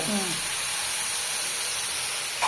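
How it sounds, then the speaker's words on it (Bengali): Spice paste for egg curry fries in a pan, giving a steady close hiss and sizzle that stays even throughout with no voices. "মশলাটা ভুনা করে নিচ্ছি"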